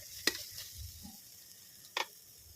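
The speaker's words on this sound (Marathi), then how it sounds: "ते छान असे मसाल्यामध्ये मिक्स करून घेणार आहोत" Soybeans being stirred into masala in a frying pan, with a steady soft sizzle and two sharp scrapes of the spoon against the pan, close and unaccompanied by speech.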